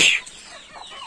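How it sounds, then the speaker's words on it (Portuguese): A hen calling her chicks, with a single loud, close cluck at the start fading into soft, faint clucking murmurs. "a galinha vem e chama os pintinhos"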